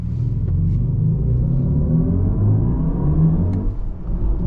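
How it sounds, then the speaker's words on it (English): A 2024 BMW iX M60 electric car accelerating hard from a green light in sport mode, a steady low rumbling whir that swells evenly for several seconds inside the cabin, with no engine note. "Let's give it a full accel."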